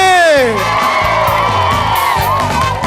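Loud, sustained audience clapping and cheering at a TV show taping held at a Thai temple, with whoops and shouts over rhythmic music and a sliding synth tone at the start.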